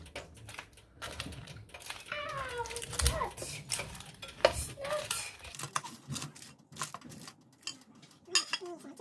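Dishes and cutlery clink and knock in light, scattered taps while grilled prawns are plated in a home kitchen, with a voice talking over the clatter.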